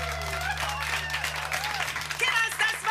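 A studio audience at a German late-night TV show applauds in a steady wash of clapping that swells toward the end, with a low electrical hum underneath and a voice over it.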